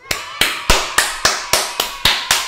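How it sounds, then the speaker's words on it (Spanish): Hand claps ring out in a steady rhythm, eight sharp claps about a third of a second apart, close and loud with no talking. "Batir en palmas"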